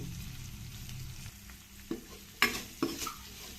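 Chopped onion frying in a pan for rasam, a soft steady sizzle with a few sharp scrapes and clinks of a spoon stirring against the pan near the end.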